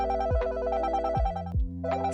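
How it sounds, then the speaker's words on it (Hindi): Mobile phone ringing in a cabin with a bright, repeating electronic ringtone melody, close and clear, with no other sound around it. "अचानक उसका फोन बजता है।"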